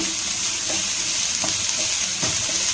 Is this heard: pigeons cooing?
no